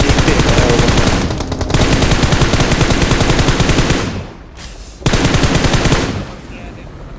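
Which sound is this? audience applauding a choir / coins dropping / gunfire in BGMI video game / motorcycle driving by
gunfire in BGMI video game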